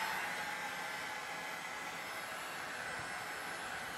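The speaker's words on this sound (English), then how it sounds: "And now I'm going to use the heat gun again." A heat gun blows steadily over fresh paint being tested with and without silicone, a constant close airy roar and hiss that holds level throughout, no talking.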